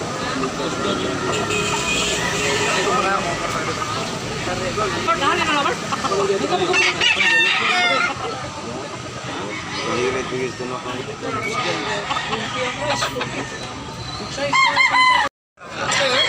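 Several roosters crow one after another while hens cluck nearby, close and loud, with voices and general chatter underneath, ending in a short break and a final burst.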